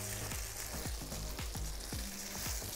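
Tofu sears loudly in a hot pan over high heat, a steady crackling sizzle broken by repeated soft thuds and scrapes as the pieces are turned.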